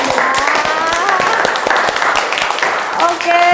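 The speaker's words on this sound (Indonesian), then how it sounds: "untuk kita tepuk tangan dulu." Applause from participants at a teacher training session, with scattered sharp claps under a continuous layer of voices and tones.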